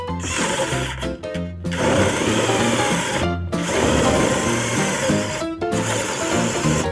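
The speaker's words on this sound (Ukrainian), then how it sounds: "І зараз перевіримо, наскільки хватить одного заряду батареї." A Stal cordless drill bores into material with a loud, close, whining motor, running in long bursts separated by brief stops and restarts, with no talking.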